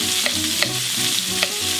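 Chopped onion tossed into a hot pan, sizzling loudly and steadily with a few quick stirring scrapes on top, close up.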